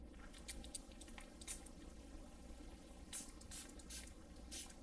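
KlearKare lens cleaner is sprayed onto fingertips in a few short, soft hissing spritzes spaced apart against a quiet background.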